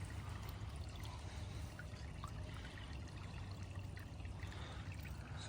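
A cloudy, unhealthy creek trickles and burbles steadily over green-stained rocks, a continuous close water wash with no one speaking.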